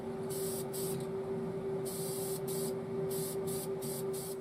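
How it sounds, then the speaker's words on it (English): White paint is sprayed onto car trim inside a paint booth with a strong draft, in repeated short hissing bursts over a constant low hum of ventilation. "So let's spray the white on the trim"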